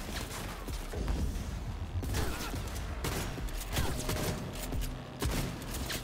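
Shotgun fire from the Cyberpunk 2077 heist mission, several heavy blasts at irregular intervals amid dense, loud game combat noise, with no talking.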